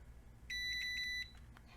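A multimeter gives a short, clear, high continuity beep lasting under a second while testing a Lego Powered Up to Power Functions adapter, with faint short chirps after it and a quiet background.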